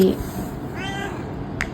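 A cat gives a short, soft meow partway through, heard under steady background noise and close-by household sounds, with a person talking.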